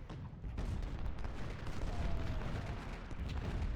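Artillery fire in Ultimate General: Civil War at Fredericksburg, a continuous rumbling barrage of distant booms and gunfire blending into a dense low roar, moderately loud and unbroken.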